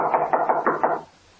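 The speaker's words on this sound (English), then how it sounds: "He knocked." Five firm knocks on a wooden door as a radio drama sound effect, evenly spaced and close, ending abruptly into quiet.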